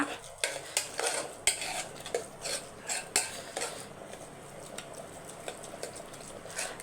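Soft-cooked rice for pongal being mashed in a pot with a spoon, repeated close scraping and clinking strokes against the metal, faint and steady, without talk.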